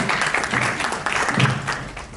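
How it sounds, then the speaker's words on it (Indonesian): Applause at an art fair press conference, a steady crowd clapping that carries on for a couple of seconds, fairly loud and fading slightly at the end. "Boleh kita beri tepuk tangan sekaligus untuk Pak William"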